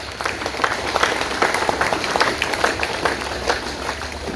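Audience at a Tamil public event applauding, a dense, steady burst of many hands clapping, fairly loud and continuous throughout without talk over it.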